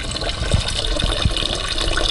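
Weak water flow from a tap, a thin steady trickle and splash running continuously at close range, with no voices over it.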